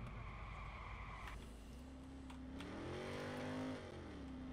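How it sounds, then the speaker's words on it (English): A V8 car engine in the video game Watch Dogs revs steadily with a low, continuous drone that climbs in pitch and then eases back, loud and close throughout. "What's the sound of that V8? This car sounds really weak for what it is."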